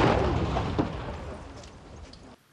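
A landmine is destroyed in a controlled detonation: a broad, rumbling boom that fades steadily over a couple of seconds before cutting off abruptly, with no voices.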